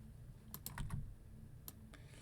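A computer keyboard gives several quick, quiet clicks in a short burst, then a couple more isolated taps, all faint in a quiet room.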